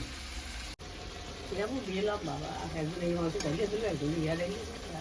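Meat frying in a pan and being stirred, with a steady sizzle and scraping of the spoon against the pan, close and moderately loud, while someone talks over it.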